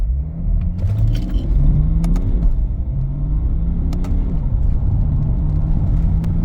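A BMW 535d diesel engine idling with a steady low rumble and slight rhythmic throb, heard close and loud, with a few faint metallic clinks over it and no talking.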